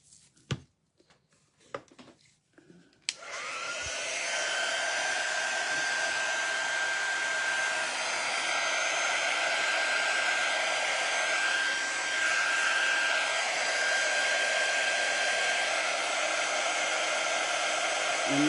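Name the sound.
hair dryer drying a ladies shoe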